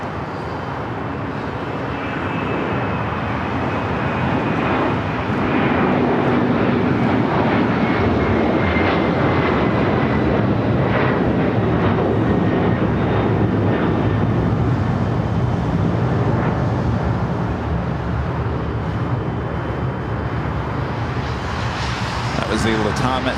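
Airliners at LAX pushing back from the Tom Bradley terminal, including a Latam Boeing 767-300ER and a China Eastern Boeing 777-300ER, give a steady, loud jet engine roar with broadband rumble that holds throughout, with faint talk mixed in.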